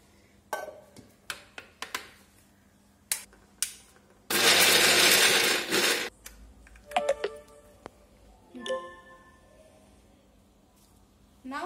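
Grapes and sugar being mixed for grape juice in an electric blender: a loud, steady whir of roughly two seconds, with scattered clicks and knocks from handling the appliance before and after.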